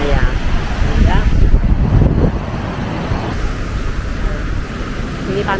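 Wind and surf at Batu Belig Beach in Kerobokan, Bali, with a steady broadband wash of waves and gusts close to the microphone, while people talk over the roar.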